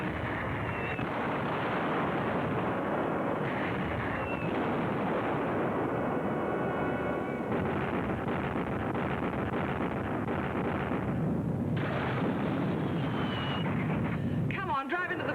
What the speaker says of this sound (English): We're heading straight for the barrage.